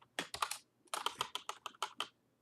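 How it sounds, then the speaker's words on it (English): Computer keyboard keys are struck in quick bursts while code is typed, two clusters of crisp clacks separated by a short pause, close and alone. "it's just going to be me typing these 2 lines of code"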